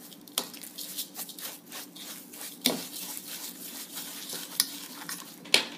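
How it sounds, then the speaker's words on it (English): Mashed banana and quick oats being stirred together in a bowl for toddler cookies: soft, irregular scraping and wet squelching strokes, close and quiet, with a few sharper clinks of the utensil against the bowl. "I'm just going to be adding my 1 cup of quick oats, and then I'm going to give that a quick mix."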